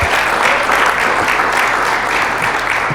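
Dinner audience at a historical and genealogical society's annual meeting applauding its charter members, steady close clapping throughout with no talk.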